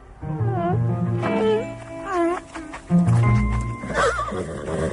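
A horse neighs loudly several times in a row, close up, with long wavering whinnies and a snort near the end.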